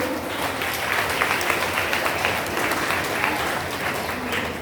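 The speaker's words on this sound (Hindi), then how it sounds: "तालियों से भाई स्वागत करिए" A crowd at a Bhagwat katha gathering claps steadily to welcome a guest, producing a dense, even roar of applause that stays at a constant level throughout.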